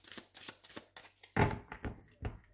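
Oracle cards being shuffled for a small three-card tarot draw, a run of soft papery riffles and taps, close and fairly quiet, with no talking.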